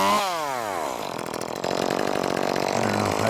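A gas pole saw roars loudly nearby while cutting branches during removal of maple and black locust trees, revving up in a falling whine and then running with a steady rough chatter, no voices.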